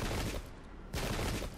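Massed musket volleys roar in a strategy game's American Revolutionary War battle at Bemis Heights, a dense crackling fusillade that dips briefly and then surges again, loud and continuous with no talking.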